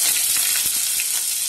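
Salted potatoes hit hot oil and sizzle loudly, a dense, steady frying hiss with faint stirring clicks, alone with no talk.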